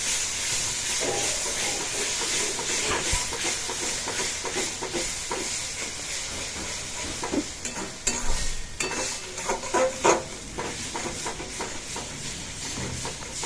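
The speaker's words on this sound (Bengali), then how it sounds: "একটু ভালো করে কষাবো।" Tomato puree stirs and fries in a pan, with a steady hiss and sizzle alongside repeated scraping of the spoon, close and fairly quiet with no talking.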